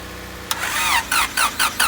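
Honda Civic engine cranking and catching: a sharp start followed by a run of rising, pulsing engine bursts that repeat rhythmically at close range, with no voices over it.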